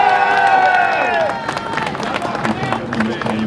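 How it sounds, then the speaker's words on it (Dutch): Outdoor crowd applauding the third-place rider on the podium at a women's cycling race in Ghent's Sint-Pietersplein, clapping and cheering spread across a square while a loud announcer's voice rings out over the first moments. "Dames en heren, een geweldig applaus voor de nummer 3"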